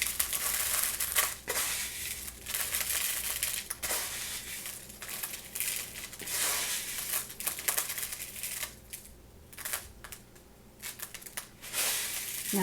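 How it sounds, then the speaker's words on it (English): Crushed glass pressed and patted onto Mod Podge on the neck of a DIY wedding centerpiece, with close crunching and gritty crackling in irregular bursts and short pauses between them. "add more glass on the neck as well"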